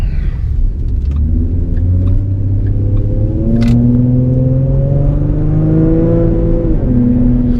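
A tuned 3.7L Ford Mustang automatic with an MPT tune, Borla S-Type exhaust and 2.73 gears drives under steady throttle, its engine drone loud and continuous from inside the cabin, pitch climbing gradually as it accelerates, with no talking.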